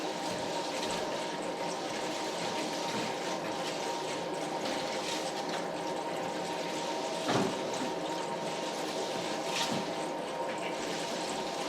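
Water rushing steadily into a water heater tank through a hose while it fills, a constant close hissing flow with a couple of faint knocks and no talking.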